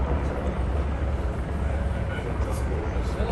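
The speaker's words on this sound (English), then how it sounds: "The helicopter just took off." A helicopter taking off in Ketchikan, Alaska: low, steady rotor and engine roar fills the scene, broad and rumbling, with faint voices in the background.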